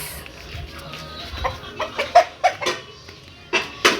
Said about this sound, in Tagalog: Ito ang manok. Manok namin guys.